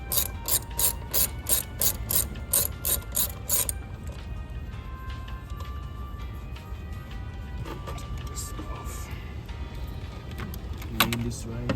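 Close ratchet clicking on a BMW 335i engine while an intake hose is removed, starting as a steady rapid run of loud clicks for a few seconds, then giving way to quieter handling and shop noise.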